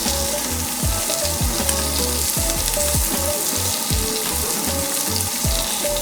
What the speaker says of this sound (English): this kimchi has been frying in the garlic oil, or in the sesame oil